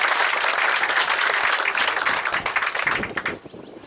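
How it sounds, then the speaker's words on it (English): An audience at the Baker Park groundbreaking ceremony in Naples, Florida, gives a round of applause, a dense burst of clapping that stays full and then thins out and fades near the end. "So please give Jim a round of applause"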